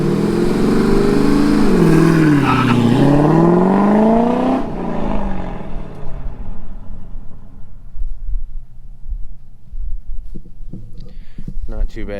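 A car launches hard with traction control on, its engine revving loud and close, pitch rising and dipping before it pulls away and fades into distant rumble, with people talking faintly nearby.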